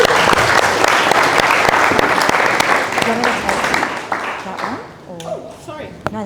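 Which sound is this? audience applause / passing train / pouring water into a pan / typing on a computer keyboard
audience applause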